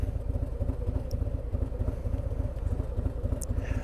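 Steady motorcycle engine rumble heard from the rider's seat while cruising, a continuous low drone with wind noise and no speech.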